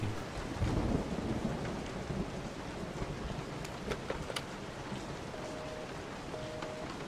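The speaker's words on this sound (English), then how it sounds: "Raining? It wasn't raining earlier." Video game rain and thunder in Resident Evil 7: Biohazard: steady rainfall with a low rumble of thunder early on, a few sharp cracks and faint tones mixed into the continuous downpour; no voices.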